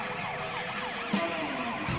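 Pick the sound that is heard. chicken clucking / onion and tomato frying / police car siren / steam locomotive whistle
police car siren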